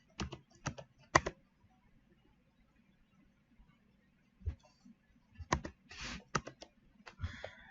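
Bursts of clicky computer keyboard typing come in short clusters of keystrokes separated by quiet pauses, close and fairly soft, with no voices.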